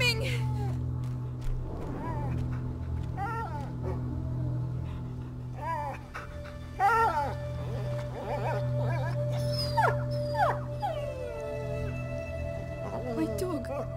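A dog in A Plague Tale: Innocence whimpers and gives drawn-out howls and yips, rising and falling over a low steady hum, fairly close and mid-loud.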